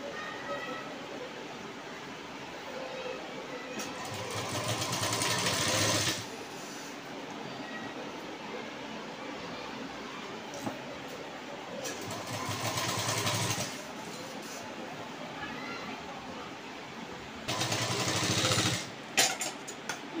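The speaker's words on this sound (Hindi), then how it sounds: "ये देखिए मैंने सिलाई लगा दी है पूरे गले में।" A sewing machine stitching piping around a blouse neckline runs in three separate bursts of a few seconds each, with quiet gaps between them. The stitching is faint and sits over a steady background hum.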